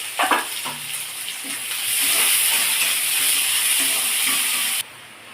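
Onions sizzle and crackle in hot oil, a bright steady frying hiss that swells after a few soft stirring clinks, then cuts off abruptly.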